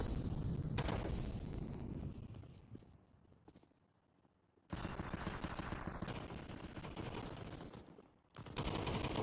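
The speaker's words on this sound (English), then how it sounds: "lot of shots being thrown out" Bursts of rifle fire in a Counter-Strike competitive match, dense rattling volleys that fade to near quiet midway, then return loud and sharp, with a brief break before a final burst.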